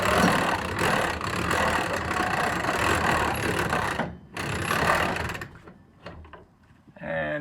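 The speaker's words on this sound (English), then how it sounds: "we're going to crank the bed up using our trusty boat winch" A trusty boat winch hand-cranks a cargo trailer's elevator bed up toward the ceiling, giving a steady, close grinding and ratcheting rattle for about four seconds before it breaks off into a few uneven clanks and pauses.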